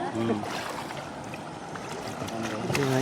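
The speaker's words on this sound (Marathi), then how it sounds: "नदीतून आपण चाललेलो आहोत" Someone wading through a cold, waist-deep, flowing river, with close sloshing and splashing water over a steady current, and people talking nearby.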